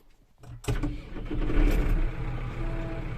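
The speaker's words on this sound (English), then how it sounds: "So we're going to start the engine up." A starter cranks and a loader's diesel engine fires up abruptly, then settles into a steady, close idle rumble.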